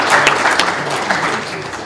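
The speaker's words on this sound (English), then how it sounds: "Well, that's a big applause for you." A live audience at a Unity game-development talk bursts into applause, a brief, loud wash of dense clapping lasting about two seconds with no voices over it.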